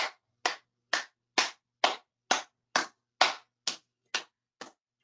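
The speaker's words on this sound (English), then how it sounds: "and then clapping, simple clapping." Eleven sharp, evenly spaced hand claps, each ringing briefly before the next, close and clear with silence between them and no voices.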